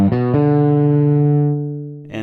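A bass guitar played through a Genzler 4 On The Floor overdrive pedal with the drive turned fully up gives one loud, sustained distorted note that rings and slowly decays, with a fresh pluck at the very end.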